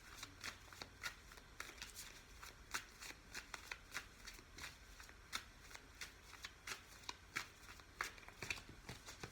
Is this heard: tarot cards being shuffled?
yes